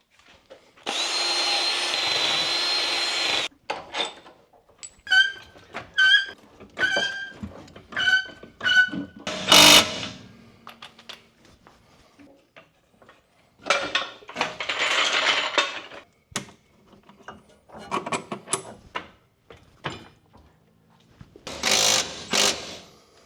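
Grinder working on rusty rear shock bolts from a BMW E30 M3, in several separate bursts: a long steady whine at the start, then short pulsing passes, and more sustained grinding runs later, all close and fairly loud.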